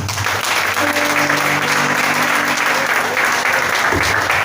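A church congregation applauds in steady, dense clapping throughout, with a faint sustained tone and a voice briefly audible underneath.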